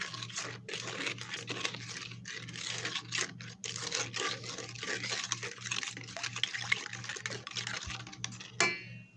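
A spoon stirs bran muffin batter in a mixing bowl, giving a steady run of soft, wet scraping and clicking strokes close up, with a constant low hum underneath and no talking.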